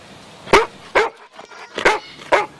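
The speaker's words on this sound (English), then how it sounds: "A dog?" A dog barks four times in separate sharp bursts, close and fairly loud, with short quiet gaps and faint background noise between the barks.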